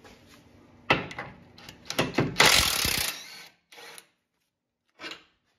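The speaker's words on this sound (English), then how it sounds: "And then get this 17mm bolt out of there." A 17mm bolt comes out of the front lower control arm of a 2007-2012 Acura RDX, making a quiet series of close metallic clicks, ratcheting and clunks, then a few isolated taps after a pause.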